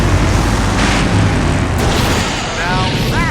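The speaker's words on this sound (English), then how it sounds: "Now that's an explosion, ladies and gentlemen." A huge explosion from the game Full Throttle Remastered rumbles loud and sustained, a thick roar of blast and debris that slowly thins out as a voice comes in near the end.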